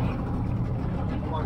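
A fishing boat engine running on board, a loud steady low rumble that drones on without a break.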